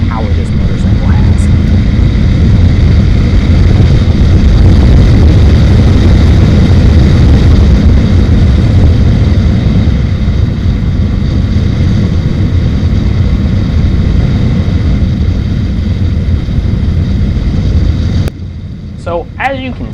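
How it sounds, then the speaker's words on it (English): Honda Rebel 500 motorcycle accelerating hard from first gear and shifting into second, a loud, continuous engine roar building for most of the span before dropping off abruptly near the end. "I accelerate in first gear, shift into second, and then stand on it"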